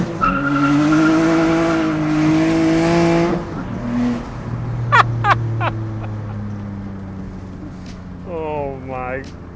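A turbocharged Honda V6 car engine drones and revs as it accelerates, its pitch holding high and then falling away, followed by brief sharper spikes and a rising whine near the end, loud and close with a voice over part of it.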